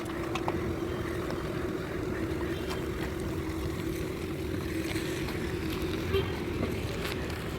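A boat pulls away from the shore at Diu, its motor a steady low drone under light wind, while people chat nearby over the engine.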